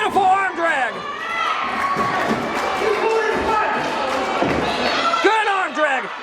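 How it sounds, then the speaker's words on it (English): A loud crowd at a wrestling show in Hinton, West Virginia, cheers and shouts nonstop, with high yelling voices rising and falling close by. "A good loud crowd here in Hinton, West Virginia."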